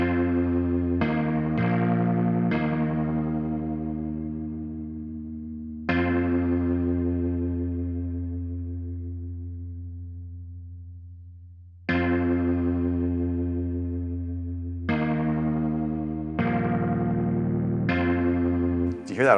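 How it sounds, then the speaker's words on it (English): Dissonant chords strummed on a distorted electric guitar, a few quick hits followed by long sustained chords that ring out and decay, heavy with effects, played alone without talk. "You hear that awful chord?"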